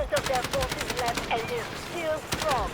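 Gunfire from several directions in the shooter game Delta Force, rapid bursts of shots and clicks crackling through the mix alongside whooshing effects, with a voice briefly audible.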